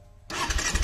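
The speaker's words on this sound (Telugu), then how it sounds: "సో ఇప్పుడు మనం ఇంజన్ అయితే ఆన్ చేద్దాం." A Kawasaki Ninja 300 BS6 motorcycle engine starts after a short quiet pause, catching abruptly into a loud, rough, close-up running note.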